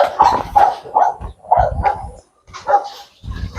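An exotic bully dog barks and yips in short bursts near the microphone, with brief pauses between the clusters of barks.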